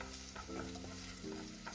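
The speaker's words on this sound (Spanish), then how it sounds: "la cebolla ya está friéndose" Chopped onion frying in a pan as the base for Japanese curry, a steady dense sizzle close up with faint stirring scrapes and no talking.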